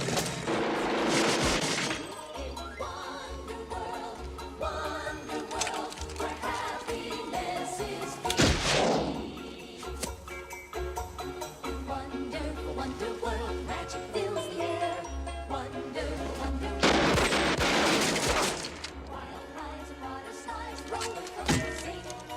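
Bursts of gunfire from a weapon in the film Beverly Hills Cop III crackle out at the start, middle and end, loud against a continuous bed of music.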